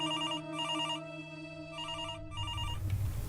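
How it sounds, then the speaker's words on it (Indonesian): A telephone rings in repeated electronic bursts, two quick trills then a longer tone, fairly loud and alone, before a lower rumbling noise takes over near the end. "Telepon bunyi."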